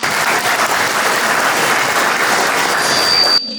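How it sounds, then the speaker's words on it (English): Applause from a fundraising gathering of the Albanian community, a loud, continuous round of clapping that cuts off abruptly near the end. "Let's give her a round of applause"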